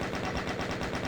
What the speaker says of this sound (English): there are chain gunners that are going to teleport in